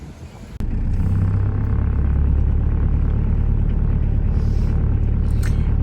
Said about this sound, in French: La voiture qui passe au milieu